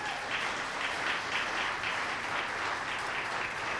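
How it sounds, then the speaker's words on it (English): Steady audience applause follows a panel discussion on the 2020 census, a dense even wash of many hands clapping at moderate distance that runs unbroken and without voices. "I first want to give a wonderful round of applause for our panel"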